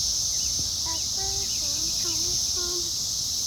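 A swarm of cicadas in America produces a loud, unbroken high-pitched buzzing drone, with scattered bird chirps and calls layered over it.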